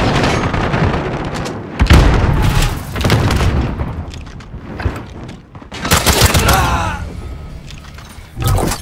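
Heavy video-game gunfire, with bursts of automatic fire, single shots and booming impacts rising and falling across the scene, loud and close, with shouting voices in between.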